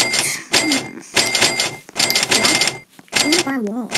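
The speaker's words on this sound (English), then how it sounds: "money noises are like super annoying" Chiming cash-register money sounds from a Roblox simulator video game ring out in quick repeated bursts, loud and busy, with a person talking over them throughout.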